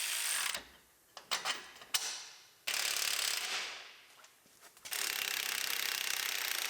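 A hand ratchet works brake-line fittings on a 2015 Chevrolet Silverado during a rear axle swap, giving irregular bursts of quick clicking separated by short pauses, close and fairly loud against a steady background hiss.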